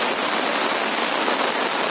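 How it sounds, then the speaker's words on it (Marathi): Heavy monsoon rain with wind at Pavitra Dham in Naigaon, Vasai, a dense, unbroken roar of downpour filling the short stretch at steady loudness. "इकडे पाऊस आणि वारा भरपूर आहे"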